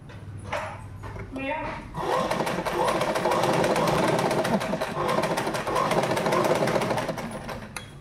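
A sewing machine top-stitches the neck of a jacket: a few brief handling clicks, then a steady, rapid, close mechanical whir running continuously from about two seconds to the end.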